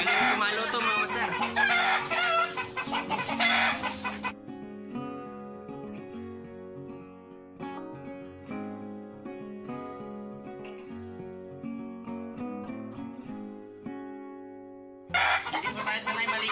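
Free-range chickens cluck and crow, harsh fowl calls in bursts at the start and end, with steady background music playing throughout.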